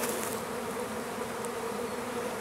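A steady, dense buzzing of many honeybees shaken out of a hive with laying workers, like a swarm close by, continuous and moderately loud without pauses.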